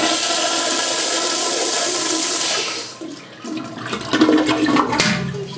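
A toilet flushes close by. A strong, rushing surge of water gives way to gurgling, sloshing refill noises over several seconds.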